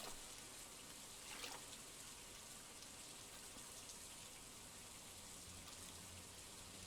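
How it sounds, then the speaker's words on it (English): Steady rain falls in Stardew Valley as a soft, even hiss of drops that stays constant and faint throughout, with no voices over it. "I like the sound of rain."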